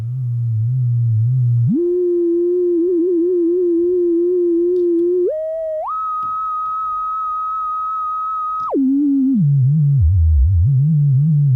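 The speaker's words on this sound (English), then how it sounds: "because it's just a single sine wave" A pure, steady single sine wave tone through a Befaco FX Boy microPhaser cartridge holds, then jumps up in pitch in steps before dropping back down, clean and loud with no other sounds.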